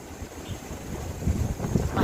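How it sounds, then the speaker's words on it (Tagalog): Strong wind gusting across an outdoor cemetery, loud buffeting rumble on the microphone that swells toward the end, with no other clear sounds. "Dito, sobrang mahangin."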